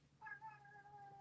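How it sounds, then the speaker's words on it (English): A cat's single soft meow, a brief tonal call that rises then trails off, heard close but faint over a quiet room. "There's a meow."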